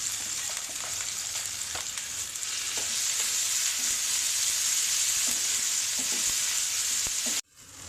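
Onion and boiled potatoes fry in hot oil with a loud, close, steady sizzle and occasional stirring taps, cutting off abruptly near the end.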